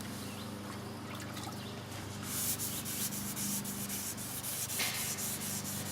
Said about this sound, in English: So we're going to start sanding our primer spot, and again, trying to keep it just in the primer spot area using a 600 grit wet.